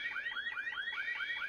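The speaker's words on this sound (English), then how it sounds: "Yeah, I got an alarm for that." A Sims 4 home burglar alarm wails in quick, looping rising tones, a steady electronic warble repeating several times a second, alone and fairly clear.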